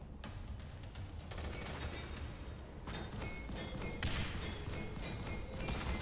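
Dense, continuous gunfire in the zombie shooter game Left to Survive, a steady crackling barrage of rapid shots filling the whole stretch with no letup, loud and close.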